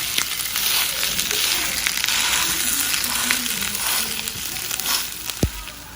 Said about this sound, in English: I'm just gonna chop all that up with a spatula until it's crumbled